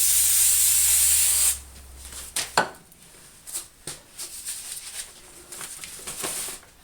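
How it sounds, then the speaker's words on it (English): Spray adhesive hisses from an aerosol can onto an aluminum sign for a custom motorcycle license plate frame, one loud steady burst of about a second and a half, then quiet handling noises. "I got this spray adhesive. Any spray adhesive will do."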